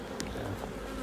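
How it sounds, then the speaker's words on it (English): Honey bees buzz around a hive frame during a 4-H beekeeping inspection, a steady close drone of a few insects with one brief higher whine near the start. "there's only a few bees on this frame"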